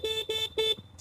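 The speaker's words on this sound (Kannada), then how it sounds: "ಹಾರ್ನ್ ಅಂತೂ ಮಾಡಲೇಬೇಕು." Three loud, close vehicle horn blasts on a forest road, each held for about a fifth of a second with short gaps, followed by a faint fourth toot.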